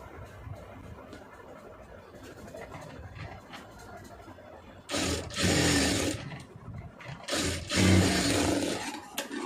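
A sewing machine stitching a neck piece onto a garment, first quiet clicks, then loud, close bursts of rapid stitching in two runs.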